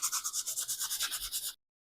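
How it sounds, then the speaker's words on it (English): Sandpaper rubbed by hand over a drilled piece, giving about fifteen quick, even back-and-forth scrubbing strokes, close and steady, that stop abruptly after a second and a half. "grab the piece and some sandpaper and sand it down"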